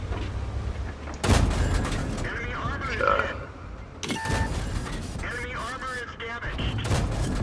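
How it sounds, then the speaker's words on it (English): A KV-1 tank in a video game firing a 57mm experimental gun, two heavy blasts a few seconds apart over engine rumble, with a voice talking throughout. "Now I'm running the 57mm experimental gun on this thing."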